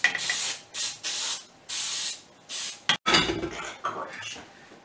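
Cooking oil spray hisses onto Bundt cake pans in a camp kitchen, coming in repeated close bursts of about half a second to a second, with short pauses and a few light metallic clinks between sprays.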